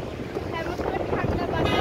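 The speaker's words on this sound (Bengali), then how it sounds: "এমনি অনেক বাতাস আসো" Strong wind blowing on a boat, a steady gusty rush with low microphone buffeting across the short moment, a voice speaking faintly underneath.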